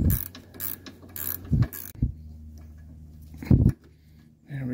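Wrench work on the suspension of a 1982 Mercedes 300SD: a handful of short metallic clicks and clanks spaced irregularly, fairly close, over a steady low hum with quiet pauses between.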